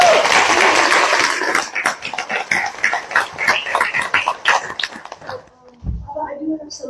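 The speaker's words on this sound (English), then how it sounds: "let's clap for the room" A room of people at a congressional roundtable on unemployment claps for several seconds, the applause thinning into scattered claps before it stops, followed by a brief low thump and murmuring.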